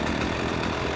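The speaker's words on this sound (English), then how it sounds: "I love this weed whacker" A petrol weed whacker engine, just pull-started on a farm, runs at a steady buzzing idle, close and constant for the whole moment, with no voices.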